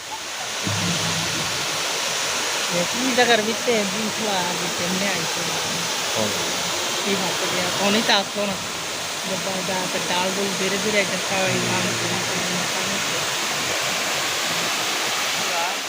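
Saika waterfall pours with a steady, loud broadband rush that holds throughout, while several people talk and exclaim close by over the constant roar of the falling water.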